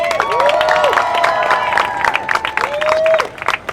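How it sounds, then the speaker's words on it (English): A crowd at a Creed Day proclamation event claps and cheers, with rising whoops and shouted voices riding over the applause, close and lively. "Please give all of them a big, big round of applause"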